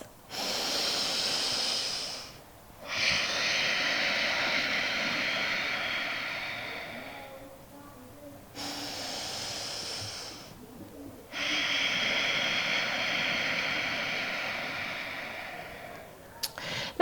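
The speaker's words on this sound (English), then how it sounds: "2 more breaths." Slow, deep breaths during a yoga pose: long airy inhales and exhales, close to the microphone, each lasting several seconds with short quiet pauses between, no talking over them.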